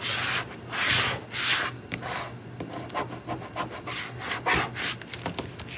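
Burnishing tool scrubbed over transfer vinyl on a decal, a close, dry rubbing and scraping sound in quick back-and-forth strokes with uneven bursts.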